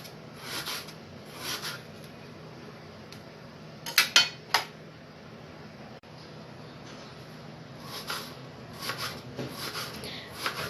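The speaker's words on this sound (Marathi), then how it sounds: "जमेल तितका पातळ कांदा आपल्याला कापायचा आहे।" A knife slices an onion thinly on a board for kanda bhaji, giving soft repeated cutting scrapes with a few sharper knocks in the middle, close and fairly quiet.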